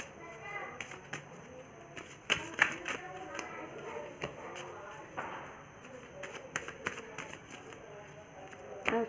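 Tarot-style cards shuffled and handled for a card reading, with soft riffling, flicks and taps coming in irregular bursts close by, while someone talks throughout.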